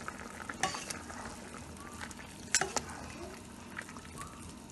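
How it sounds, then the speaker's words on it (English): Goat meat simmering in a pot is stirred. A soft, steady bubbling sizzle runs under a few scraping spoon strokes and light clinks, all fairly quiet and close. "I'm going to stir it"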